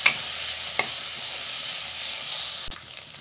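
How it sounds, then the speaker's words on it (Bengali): Carrots fry in a pan for vegetable fried rice, giving a steady loud hiss of sizzling oil with a couple of sharp utensil taps as they are stirred. "গাজরটাও আমি খুব ভালোভাবে ভেজে নেবো এবং এগুলোর সাথে মিক্স করে নেব।"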